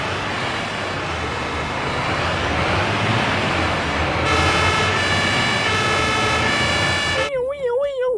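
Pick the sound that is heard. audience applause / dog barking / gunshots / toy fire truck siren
toy fire truck siren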